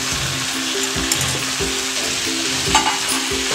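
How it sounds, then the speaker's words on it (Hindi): Potatoes and drumstick pods fry in spice masala in a pan, a steady close sizzle broken by rhythmic stirring scrapes roughly every half second, with no talking. "अब हम आलू डालेंगे, फ्राई करेंगे थोड़ा, मसाला अच्छे से मिक्स हो जाए। फिर हम सहजन की फली डाल रहे हैं।"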